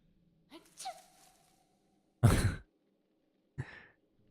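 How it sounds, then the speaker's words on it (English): Three small sneezes from Gilly, a character in a puzzle game: short, soft vocal bursts spaced apart, with the middle one loudest, over quiet background with no talk. "I love hearing the small achoo's from Gilly."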